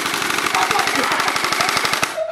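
A splatter gun fires a fast, continuous burst of rapid shots for about two seconds, loud and close, then stops abruptly.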